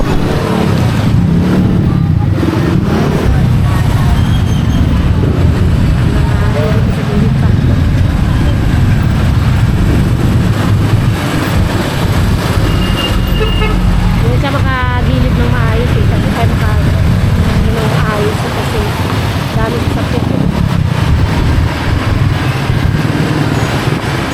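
Dense road traffic rumbles continuously, with engines of cars and motorcycles passing close by and a brief honk partway through, while people talk over the noise.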